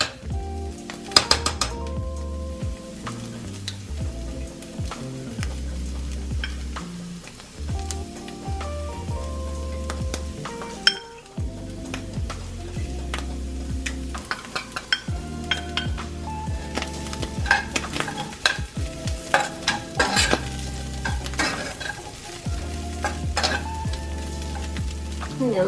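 Chickpeas browned in a skillet fry with added spices, a steady close sizzle with frequent scraping stirs and clinks of a utensil against the pan, no voices.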